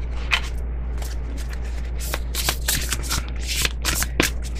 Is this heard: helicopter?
no